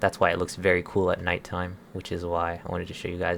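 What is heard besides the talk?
No everyday noises stand out.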